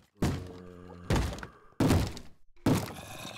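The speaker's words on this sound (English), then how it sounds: "who's banging on my door?" A Minecraft zombie pounds on a wooden door in four loud, heavy thuds spaced about a second apart, each one ringing briefly before the next.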